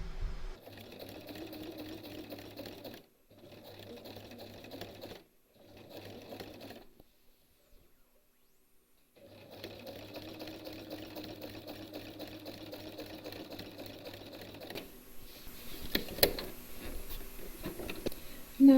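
Sewing machine stitching along the folded edge of a reversible quilt, running in several sustained bursts separated by short stops, followed by fabric handling noises.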